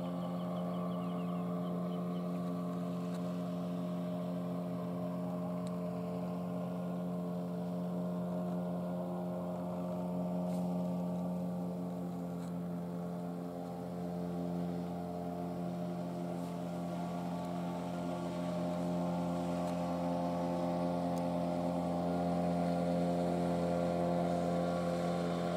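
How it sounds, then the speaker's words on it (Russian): A motorboat on a river in Komi, its engine a steady droning hum that holds fairly constant and slowly swells toward the end, with no voices over it. "И вон лодка едет."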